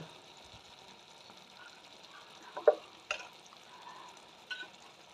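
Dried fish curry stirred in a pan, with a soft background sizzle and a few distinct scraping knocks of the spoon against the pan, quiet and close, with no talking.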